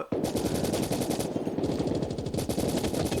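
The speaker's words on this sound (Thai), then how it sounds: "นี่นี่ยิงไม่โดนเลยเว้ยปืนแต่งมาแล้วนะเนี่ย" Rapid sustained automatic fire from a customized M4 rifle in the mobile shooter Call of Duty Mobile, loud dense rattling bursts nearly continuous with a brief dip midway, no talking.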